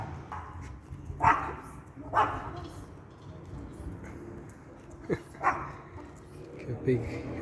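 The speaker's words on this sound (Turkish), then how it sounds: "Köpek köpeğe havlıyor." A dog barks at another dog on a street in Scheibbs, Austria, giving several separate sharp barks at a moderate distance amid background murmur and faint talk.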